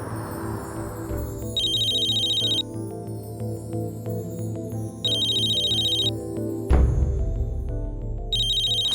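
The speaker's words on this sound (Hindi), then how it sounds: "मैं जिग्नेश को फोन करती हूँ।" Phone ringback tone plays during an outgoing call, a clear electronic ring repeating in long bursts with short pauses between them, alongside a soft musical background, with no voices.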